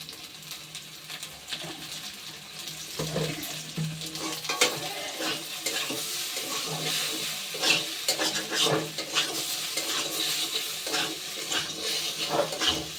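Taro stolons fry in mustard oil over a low flame and are stirred continuously. The sizzle is steady and close, broken by repeated scraping strokes, with no talking.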